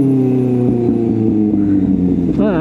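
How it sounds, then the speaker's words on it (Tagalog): A Kawasaki ZX6R sport motorcycle with an aftermarket exhaust rumbles loud and close while riding in traffic, a deep steady drone that rises in pitch near the end. "Gusto ko talaga yung sound ng exhaust ko ngayon"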